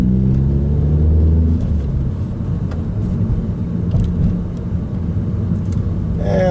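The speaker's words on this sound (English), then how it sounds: "Now upshift to second." A manual six-speed car upshifts into second and accelerates, its engine note rising briefly before settling into a steady, close, loud road and engine rumble.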